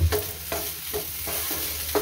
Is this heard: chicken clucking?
no